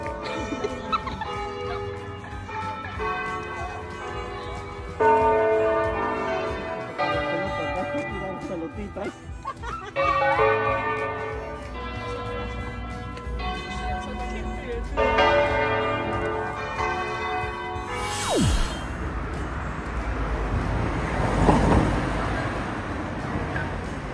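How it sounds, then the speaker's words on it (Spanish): Church bells in Verolanuova, an Italian town, ring at night in a steady series of resonant strikes, followed by a burst of louder outdoor noise near the end. "Mientras que seguimos escuchando las campanadas"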